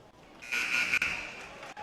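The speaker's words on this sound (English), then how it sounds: "And the buzzer sounds" Long electronic buzzer in a high school gymnasium before a basketball game, a steady tone lasting about a second over faint crowd murmur, moderately loud.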